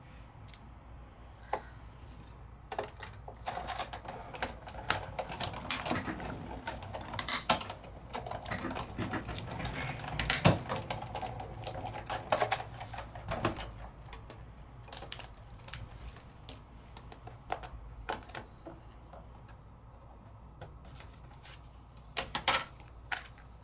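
Die-cutting machine cutting a paper die for scrapbooking, giving quiet irregular clicks, ticks and scraping crunches spread over about twenty seconds with no talking.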